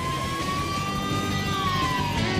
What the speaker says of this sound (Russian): Это называется сирена.